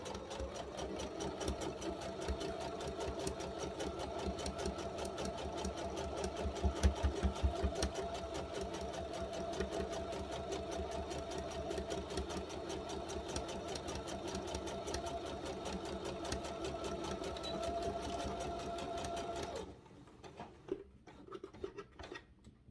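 A sewing machine stitches fabric for a cover, running in a fast, steady mechanical chatter for about twenty seconds, then stopping and leaving a few faint handling sounds.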